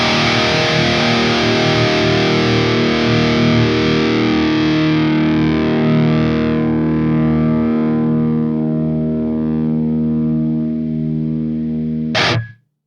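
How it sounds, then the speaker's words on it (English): A single distorted electric guitar chord through a Mercuriall AmpBox 6160III with a noise gate rings out loudly and slowly fades, sustaining for several seconds before being abruptly cut off. "Let's let the note ring through so we can check the sustain of the noise gate."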